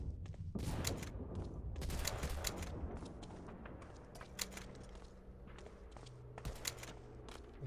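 Gunfire from the Medal of Honor Allied Assault multiplayer video game: scattered sharp shots and short bursts crackle over a dense, busy in-game background of movement and footsteps, heard as a rolling battle rather than single isolated reports.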